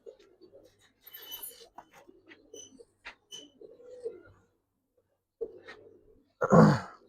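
Giribaz pigeons cooing at a pigeon seller's, soft repeated coos in short bursts nearby, with a louder rustle near the end.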